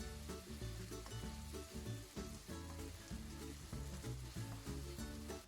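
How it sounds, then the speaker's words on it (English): Pork fries in oil in a pan over high heat, giving a continuous, dense sizzle that runs throughout under steady background music. "Fry the pork with high temperature."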